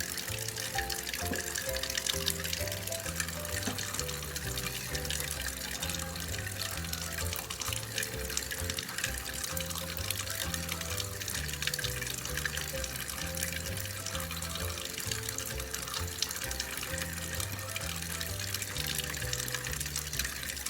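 A faucet runs continuously at full flow, a steady rushing hiss close by with a faint repeating low tone underneath.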